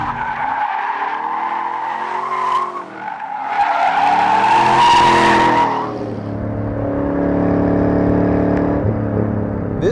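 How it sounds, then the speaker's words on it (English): A 2013 Chevrolet Camaro SS muscle car power-slides with loud, sustained tire squeal over a roaring, revving engine, the screech rising and wavering for several seconds, close and continuous. "it will go to a power slide like that really easily"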